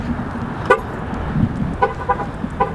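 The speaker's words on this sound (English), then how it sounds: "Oh wait, let me lock the car." A Nissan GTR's horn chirps as the car locks: short, loud toots in a quick series, one early and then a tight cluster near the end, with no talk.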